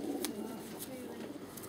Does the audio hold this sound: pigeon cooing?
yes